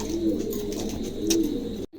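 Pigeons for sale at a pigeon market coo in low, rolling phrases, with two clear coos near the start and again past the middle over a steady crowd hum, before the sound cuts off abruptly at the end.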